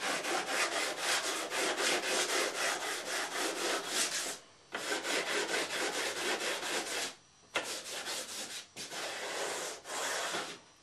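Sandpaper rasps steadily over the fret ends of a bass guitar, wearing them down to the rosewood fretboard. The close, loud, continuous scraping strokes come in long runs broken by a few short pauses.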